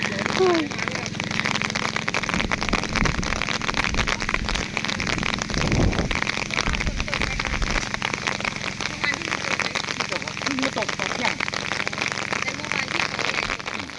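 Continuous rain falling outdoors at a fishing spot beside a campfire, a dense steady patter throughout, with some brief louder crackles and knocks mixed in.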